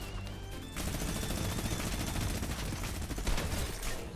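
Sustained minigun fire in a video game, a dense rapid rattle of shots that starts after a brief lull and runs loud and continuous to the end, with no talking over it.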